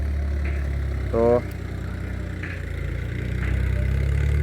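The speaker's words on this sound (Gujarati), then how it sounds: "ટ્રેક્ટરથી ગાવાનું ચાલુ છે." A tractor works a flooded paddy field nearby, its engine idling and chugging at a steady low drone throughout, while a person speaks briefly over it.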